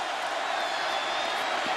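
A dense, steady roar rises from a football stadium crowd at the 2007 Auburn–Clemson Chick-fil-A Bowl and fills a brief moment at an even level.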